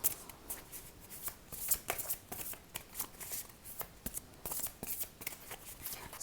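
Tarot cards being shuffled and handled at close range, a quiet, steady run of soft riffling and flicking with small sharp snaps, no talking.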